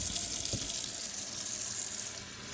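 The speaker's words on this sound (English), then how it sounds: "So let that water warm up and just fill this up." Running tap water pours steadily into a cup in a home kitchen during chicken and dumpling cooking, a close, continuous hiss and splash that holds at an even level without talk.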